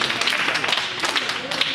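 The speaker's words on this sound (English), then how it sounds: "Give yourselves a round of applause" A room full of teens at a youth build program breaks into brief, bright clapping, many hands patting quickly at moderate volume for under two seconds.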